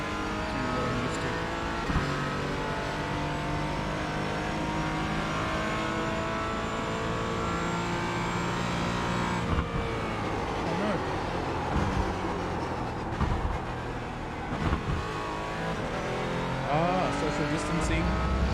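A race car engine drones steadily and loudly throughout, with gear-change dips and a near crash moment, while someone talks over it.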